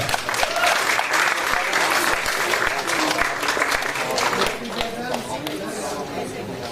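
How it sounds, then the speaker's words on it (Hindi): Loud, sustained audience applause at a theater festival as a play's director is introduced, dense clapping filling the hall and tapering slightly toward the end. "सुनीता अग्रवाल जी, जोरदार तालियां"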